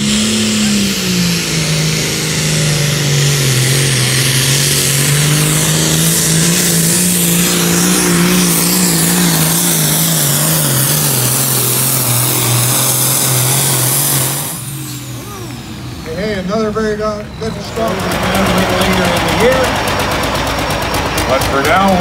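A red tractor engine roars at a tractor pull in Embro, Ontario, a loud sustained drone that rises and falls in pitch, then cuts off briefly before a higher revving burst.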